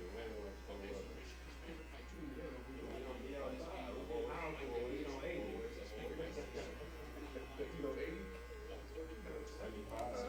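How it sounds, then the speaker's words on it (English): An electric hair clipper buzzes steadily through a fade haircut, the motor hum constant while blade strokes come and go; a voice talks over it. "Slightly close the clipper as you go down."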